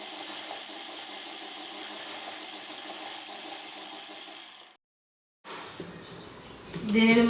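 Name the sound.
sewing machine stitching petticoat pieces together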